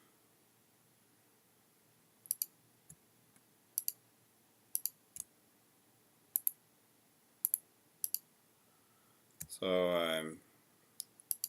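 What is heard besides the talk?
mouse clicking while drawing polylines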